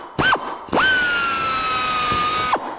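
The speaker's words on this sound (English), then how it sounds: "the most critical step for getting a nice straight hole is to look for the reflection of your drill bit in your workpiece" A handheld power drill with a bit spins up into a metal workpiece, giving a brief whir, then a sustained steady high whine for nearly two seconds before it stops, close and clear with no talk.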